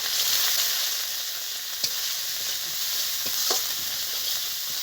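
Ground spice paste with salt, turmeric and coriander powder sautés in a pan, a steady close sizzle with a few sharp spoon clinks and stirring scrapes, no voices.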